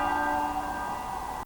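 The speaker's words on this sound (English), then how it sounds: "the tenor bell started to toll at 6 o'clock this evening" The tenor bell of Westminster Abbey tolls in the evening, a single sustained stroke whose rich humming partials ring on steadily and loudly, with no voices.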